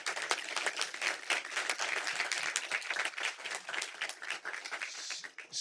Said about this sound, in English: Let's give Ray another round of applause in the building.